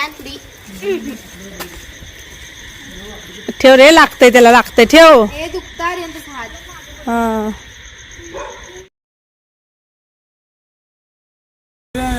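Several dogs bark and yip in short loud bursts, mixed with people talking nearby, then the sound cuts off.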